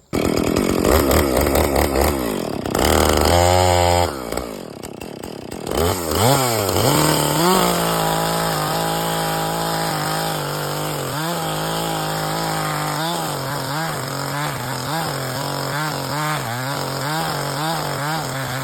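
A Husqvarna 450 Rancher chainsaw cuts through a large chunk of wood roughly 14 inches across, its engine revving loud and close, bogging into the cut and rising again, with no one speaking.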